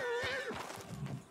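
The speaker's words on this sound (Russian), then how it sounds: "Так, лошадь." A horse in the game Red Dead Redemption 2 gives a loud, close whinny that falls in pitch, followed by snorting and a few hoof clops.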